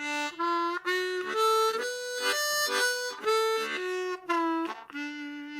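A harmonica plays a major pentatonic scale, stepping up and back down in single notes, each tone clear, reedy and evenly spaced.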